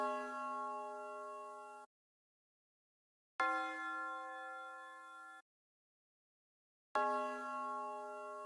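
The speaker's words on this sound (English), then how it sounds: "and I added this bell." A bright synthesized bell melody from an FL Studio beat plays three sustained, ringing phrases, each about two seconds long and separated by short silences, clear and alone.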